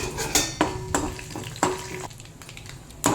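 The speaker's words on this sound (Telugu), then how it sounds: "ఎండుమిరపకాయలు పోపు వేస్తున్నాను" Dried red chillies, urad dal, mustard seeds and cumin fry in oil in a pan as a tempering, with repeated sharp spoon-on-pan clinks and stirring over a steady sizzle, close up.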